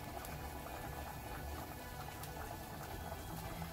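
Cumin seeds frying in hot oil on a medium stove flame, a steady, even sizzle with fine crackling that holds at the same level throughout, with no voices.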